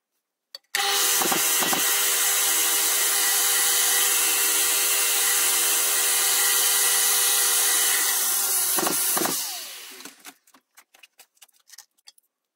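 A power sander runs on a figured Jarrah wood pendant, a loud, steady whirring drone for about nine seconds that winds down, followed by a few scattered knocks and taps.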